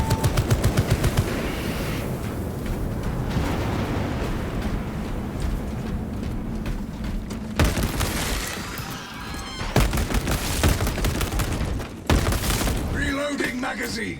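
Tarantula turbo gun turret firing in Warhammer 40k on absolute difficulty, dense rapid bursts of heavy automatic fire over combat noise with a voice speaking, continuing for many seconds with brief pauses.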